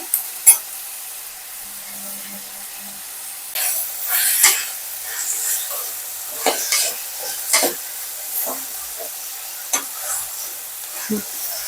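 Sambar tempering sizzling in a hot pan, with a steady faint hiss and repeated scraping stirs that come and go, close and fairly quiet.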